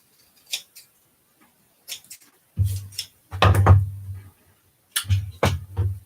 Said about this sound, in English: Just trim that down.